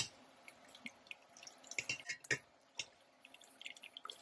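Whey dripping from squeezed homemade mozzarella curds into a bowl, a quiet, irregular patter of small drips and splashes close by, with no talking.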